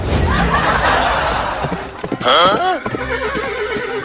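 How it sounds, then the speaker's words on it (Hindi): A cartoon horse neighs loudly in a rising, wavering whinny amid clip-clopping hooves, with a voice talking and a chuckle in a comedic animated scene. "ये घोड़ा मेरे कहने से भी नहीं रुक रहा"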